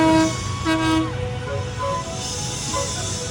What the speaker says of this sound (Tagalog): Oh, that's so nice that it has like a horn.